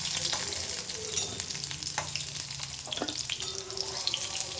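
Pieces of pointed gourd (potol) fry in hot oil for a shrimp dish, a close, continuous sizzle with crackling pops and occasional stirring clinks, no voices.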